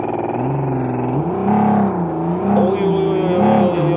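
A car engine revs and whines in BeamNG.drive with wavering pitch, rising and falling several times, loud and close, with a synthetic, game-like tone.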